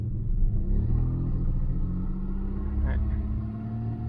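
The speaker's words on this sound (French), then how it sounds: "Si je lui en mets doucement, elle repart maintenant en ratatouillant." A Citroën XM V6 engine runs with a low, uneven, lumpy idle after light throttle, a steady close rumble throughout with a brief voice near the end.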